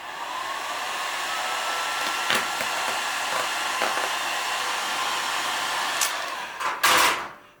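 A heat gun blows steadily close by while vinyl wrap is warmed on a motorcycle helmet, a constant airy whir with a few faint taps and a louder burst near the end.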